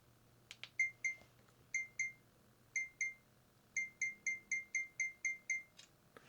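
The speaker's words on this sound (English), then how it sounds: "I leave that countdown timer on 5 seconds" Short, bright electronic beeps from a DJI Action 5 camera countdown timer, first in scattered pairs and then in a steady run of evenly spaced beeps, close and clear over a quiet outdoor background with no talk.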